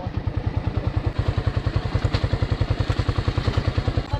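Motorcycle engine on a rough, muddy dirt road near Gulod, Tanay, Rizal, a steady rapid low thumping putter with rattling clatter, close and loud throughout with no talk.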